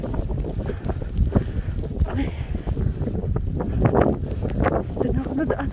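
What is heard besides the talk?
strong wind during a snowstorm in Madrid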